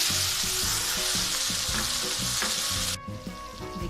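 Three large finely chopped onions fry and brown in a pan over slow heat for aloo matar, giving a loud, continuous close-up sizzle with rhythmic stirring scrapes. The sizzle eases off near the end.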